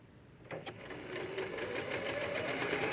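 A sewing machine stitches a quilt seam along the straight grain, starting with a soft whir that builds into a steady, close, rapid mechanical hum.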